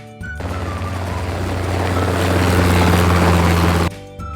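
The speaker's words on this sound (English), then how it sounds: "This is a helicopter." A helicopter in flight gives off a loud, continuous rotor and engine roar with a low steady hum that swells gradually over several seconds before cutting off, with quieter tones around it.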